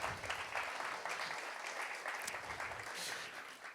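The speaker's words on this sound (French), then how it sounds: "on peut les applaudir" Audience applause at a church gathering, a steady dense wash of clapping held for a few seconds at moderate distance, with no clear voices over it.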